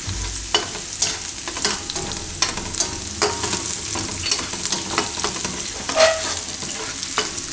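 Green chillies fry in a pan over low gas, giving a steady soft sizzle broken by repeated scraping taps of a spoon stirring, close and clear with no voice.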